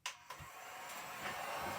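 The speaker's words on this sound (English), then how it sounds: "So here we go, blow drying." A hair dryer switches on with a click and settles into a steady, airy whir that runs continuously and fairly quietly.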